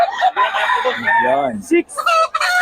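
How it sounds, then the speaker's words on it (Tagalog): Chickens and a rooster at a poultry seller's place, with close, loud crowing and clucking mixed with a voice speaking briefly. "Maraming manok yan"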